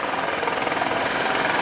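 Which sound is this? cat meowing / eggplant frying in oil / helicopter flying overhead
helicopter flying overhead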